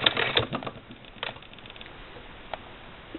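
A Singer Model 20 SewHandy toy sewing machine stitches quilt binding and runs over pins, giving quiet, quick mechanical clicks and taps that thin into scattered ticks.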